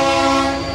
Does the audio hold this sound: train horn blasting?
yes